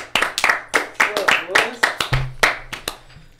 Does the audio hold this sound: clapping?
yes